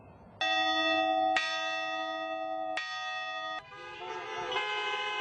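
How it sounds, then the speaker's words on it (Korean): Church bell tones ring out loud and clear from a drive-in church by the sea in Florida, with car horns from vehicles gathered in a large parking lot sounding along with them in long sustained blasts. "종소리에 맞춰 넓은 주차장에 모인 차들이 다 함께 경적을 울리고"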